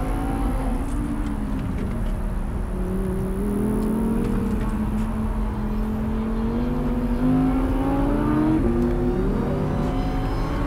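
A Cupra Ateca or Audi R8 V10 Spyder accelerating hard on a race track, engine note climbing in pitch through the gears with shifts, loud and close from onboard, alone without talk.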